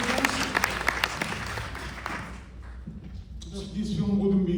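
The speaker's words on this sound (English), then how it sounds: "And big applause for you." Applause from a premiere audience at TIFF's Midnight Madness: a burst of clapping that fades after a couple of seconds, then gives way to a voice speaking over the room.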